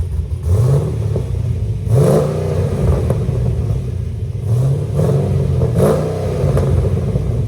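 A cammed Chevy Caprice with a 6.0L V8 and open long tube headers revs loudly and up close, with several sharp throttle blips rising over a lumpy, choppy idle.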